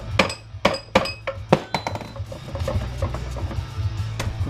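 Plastic housing being broken off a soldering iron for scrap, probably against a vise: a series of sharp, close clinks and cracks in the first two seconds, then softer scraping and handling noise over a low hum.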